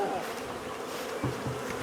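Bees swarm back toward a top-bar hive in a close, steady buzzing drone, with a louder pass of wings near the microphone toward the end.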